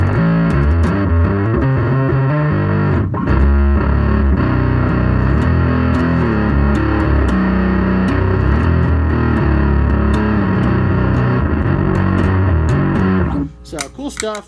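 Loud, growling distorted electric guitar played through a Twin 386 Custom fuzz pedal into a cranked amp, continuous, thick and fuzzy, cutting off abruptly near the end.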